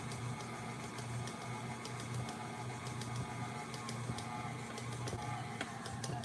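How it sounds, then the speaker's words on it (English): A stand mixer works hard on cobbler dough, giving a steady mechanical hum with a low motor drone and faint rhythmic clicking, continuous and moderately quiet. "You hear the mixer working overtime."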